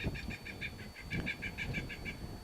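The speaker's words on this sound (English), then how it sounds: "Oh, the birds are pretty happy over there." A rapid series of repeated bird calls rings out at an even pace over low rumbling wind or background noise, moderately distant, at US Navy Point Mugu.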